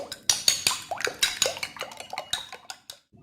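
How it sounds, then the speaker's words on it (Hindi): A metal spoon clinks and scrapes quickly against a pot while eggs are stirred into chicken soup, giving a series of sharp, close, irregular knocks with no voice. "अंडे भी एक हाथ से डालने हैं और चम्मच के साथ मिक्स करते जाना है।"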